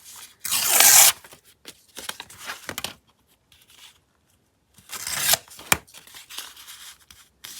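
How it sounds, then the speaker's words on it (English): Paper being torn at the bottom of a file folder envelope: a loud, close rip near the start, a few softer tearing and rustling bursts, a pause, then another sharp tear with crinkling handling sounds. "Tear the bottom a little"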